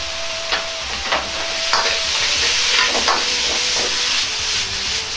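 Daikon and tuna stir-frying in a pan with a little sesame oil, a close, bright sizzle and hiss broken by repeated scraping stirs at an irregular rhythm.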